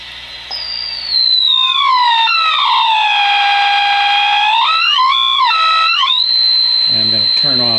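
A 1924 Radiola III-A receiver pushed into oscillation gives a loud, piercing whistle that sweeps down and back up in pitch, wavering and shifting before settling into a steady high tone, then dropping to lower bursts.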